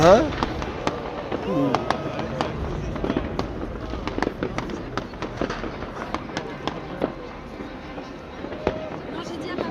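New Year fireworks burst over a Belgian city, with many sharp distant bangs and crackles going off irregularly while people talk nearby.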